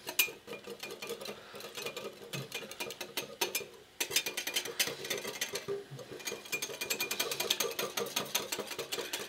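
A bamboo whisk scrapes rapidly back and forth in zigzag strokes through matcha in a cup, producing a fast, continuous clicking and swishing texture, close and fairly quiet, with a brief pause partway.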